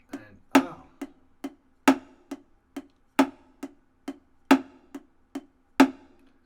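Triplet drum pattern played on a practice surface, with the left hand accenting the last note of each triplet: steady, crisp close hits where a louder stroke recurs at regular intervals among softer ones, no talking.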